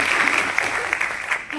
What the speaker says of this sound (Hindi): तो आप लोग तालियां बजाइए सिमरन के लिए